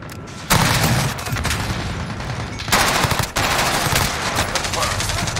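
Gunfire in the Call of Duty Modern Warfare video game, likely an MP5, with loud, dense automatic bursts that rattle almost continuously and break briefly between volleys.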